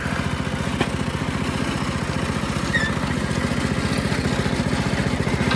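A homemade petrol-engine branch chipper, modified with larger wheels, runs with a steady loud throbbing engine rhythm at close range with no talking.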